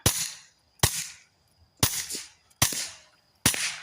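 Five sharp shots from a Kel-Tec P17 pistol fired at irregular intervals, bullets hitting dirt, each a crisp crack with a short ringing decay outdoors.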